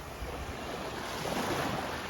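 Waves surge steadily against big breakwater rocks at Klong Muang Beach in Krabi, Thailand, a continuous broad wash with wind rumbling on the microphone, no voices.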